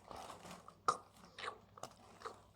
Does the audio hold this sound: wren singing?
no